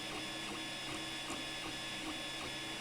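An Ender 3 3D printer lays down its first layers of filament with a continuous whirring stepper-motor drone, steady and close, with faint rhythmic shifts as the head moves back and forth.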